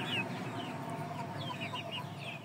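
Indio Gigante chickens, a giant breed, cluck and call softly in a pen, with several short bird calls scattered over a steady hum of background noise.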